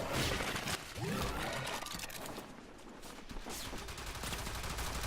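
Latron Prime rifle gunfire in Warframe, used with a Chroma build: dense, rapid shots and sharp impacts blend into a loud, continuous wash of game combat noise, with no voices.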